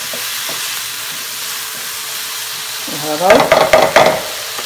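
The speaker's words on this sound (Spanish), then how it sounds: "Y vamos a menear. Y vamos a dejar que se poche bien lo que es la cebolla." Chopped onion sizzles steadily in a hot pan while being stirred, with a burst of scraping, clattering stirring strokes near the end; someone speaks briefly over the frying.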